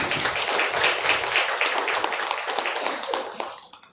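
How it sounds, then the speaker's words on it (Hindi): A church congregation claps steadily to welcome a new assistant parish priest, dense close applause that thins and fades out near the end. "तालियों से हम फादर का स्वागत करते हैं।"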